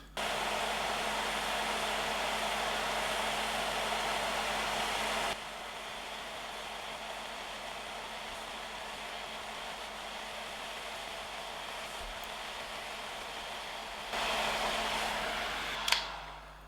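A temperature-controlled hot air rework tool blows steadily while heating a component off a circuit board, a loud continuous airy whoosh that drops to a lower setting partway through, then rises again near the end.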